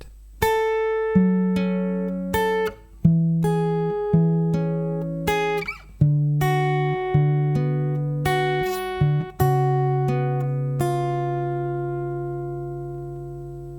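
An acoustic guitar is fingerpicked in a steady, repeating pattern, single plucked notes ringing over low bass notes, clear and close with no voices.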